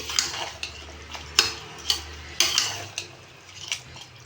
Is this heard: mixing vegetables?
yes